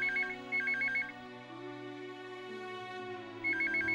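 A telephone rings with a warbling electronic trill in two short bursts, then again after a pause, over a sustained musical soundtrack in a television drama scene.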